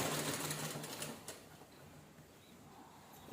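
A sewing machine runs in quick, fine mechanical stitching bursts while sewing a saree cover, loud at first and then tapering to a quieter, lighter run before a final brief clack.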